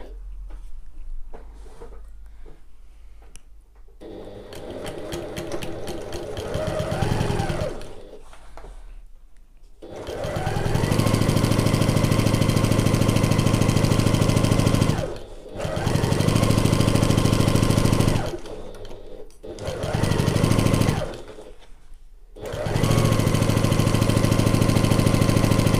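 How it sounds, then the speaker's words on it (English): A sewing machine runs a back-stitched seam on an oval bag in several loud motor bursts, each stopping briefly before restarting, with quieter handling sounds at the start. "Now don't forget to back stitch at the start and the end."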